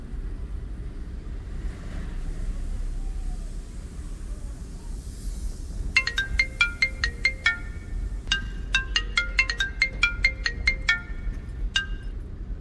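A phone rings repeatedly on an outgoing call, its tonal ring pattern repeating in bursts over a quiet, windy background hiss.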